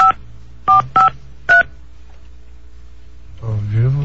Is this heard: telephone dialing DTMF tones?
yes